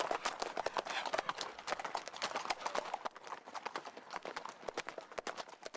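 Horses' hooves clip-clop in a quick, busy stream of sharp knocks, several animals moving close by at a brisk pace, the beats dense and overlapping before thinning slightly in the latter half.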